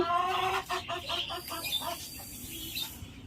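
Hens clucking and squawking up close on a rooftop terrace in the morning, several loud rhythmic clucks early that fade to scattered calls over faint background noise.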